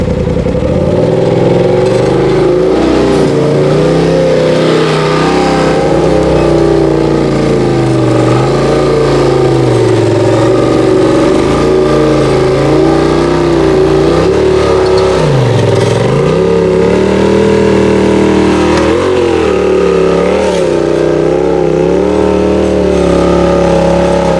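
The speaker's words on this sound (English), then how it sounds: "I've never seen a stock RZR go up this. But when you got portals," A Polaris RZR UTV with portal gears climbs a steep hill, its engine droning loud and close without pause, pitch rising and dipping as the throttle works.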